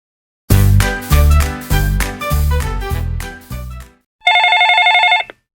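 A telephone rings for a call to a university student housing office: several loud, evenly spaced ringing bursts, then a brighter electronic ring tone, with no talk.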